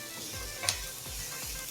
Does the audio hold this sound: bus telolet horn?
no